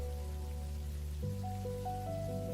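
The Arrow Rain skill effect in MapleStory gives a steady, quiet wash like falling rain for about two and a half seconds, with faint tones shifting underneath. It plays alone, with no voices.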